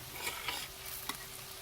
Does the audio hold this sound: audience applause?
no